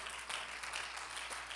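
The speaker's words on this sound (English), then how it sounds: "give the Lord a hand clap of praise" Church congregation clapping in praise: a short, dense burst of applause, steady and moderately loud across a large room.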